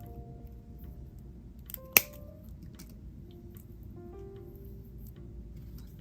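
Scissors snip off excess jewelry wire during beadwork: one crisp, close cut stands out against a quiet room background.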